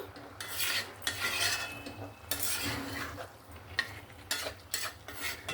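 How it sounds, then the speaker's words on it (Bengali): Fish-head cabbage curry being stirred in a pan with a little water, a spoon scraping and clinking against the metal in repeated strokes over a soft steady sizzle, close and moderately loud, with no talking. "সামান্য একটু জল দিয়ে আবারও নাড়াচাড়া করে নেব"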